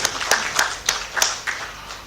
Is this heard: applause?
yes